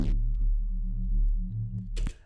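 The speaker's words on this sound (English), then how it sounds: "we're actually just going to use oscillator 1 as the actual kind of main oscillator, and it's just a basic shapes kind of square sine wave thing" A basic square-sine oscillator from the Vital synth sounds as a steady low harmonic tone for about two seconds, ending in a short bright burst.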